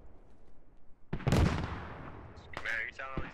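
Gunfire in the military shooter game Squad, with a loud burst of shots followed by further sharp cracks a moment later. A voice is faintly present.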